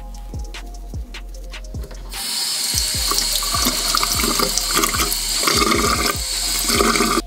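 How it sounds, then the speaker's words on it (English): Running water from a tap splashes steadily as a makeup brush is lathered with soap and rinsed, after a few seconds of soft squelching and rhythmic dabbing sounds; close and continuous, with no talking. "I'm gonna get a little bit of soap on my brush"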